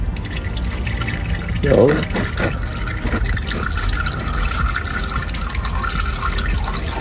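Engine oil drips from the drain of a Ford Fiesta into an oil pan, a soft trickle with a few brief splashes, heard under someone speaking.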